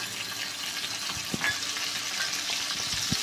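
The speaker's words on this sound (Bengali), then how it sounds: "পেঁয়াজটা ভাজা হয়েছে" Onion and spices frying in a pan for a pumpkin and shrimp curry, a close, continuous sizzle with a few soft knocks from stirring.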